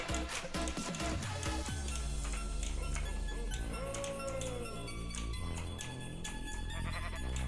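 Synthetic sheep bleats in Minecraft (BetterMC modpack) sound a few times over loud, continuous game music with ticking and clinking effects.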